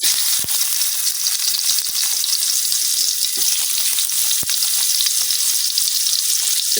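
Cut onions frying in a wok in a Bengali home kitchen, a loud, steady hissing sizzle with scattered sharp crackles and pops throughout, no voices.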